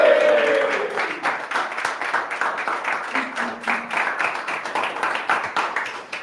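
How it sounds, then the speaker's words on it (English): Audience in a football fan talk show studio breaks into applause welcoming a guest, a loud burst that settles into sustained clapping with a brief tonal sound early on. "A big round of applause."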